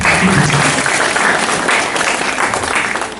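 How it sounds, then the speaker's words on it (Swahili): Loud, sustained applause from a graduation audience, dense clapping from many people close by that stays strong and only eases slightly at the end. "Tumpigie makofi"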